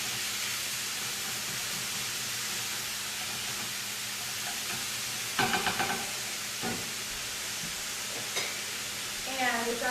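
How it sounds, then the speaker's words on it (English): Chicken browning in a pan gives a steady, close sizzle and hiss throughout, with a few brief clatters from stirring and no talk over it. "so we're going to brown this chicken,"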